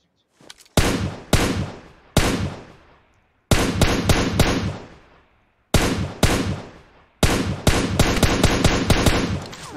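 Gunfire in PUBG Mobile on the Livik map, loud sharp shots in single reports and quick bursts, some rapid strings with echoing tails and short silences between volleys.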